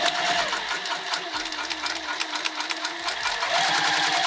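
A sewing machine hums steadily as it stitches the back of a Hendrix bag, running continuously at close range with a few low mechanical thumps along the way.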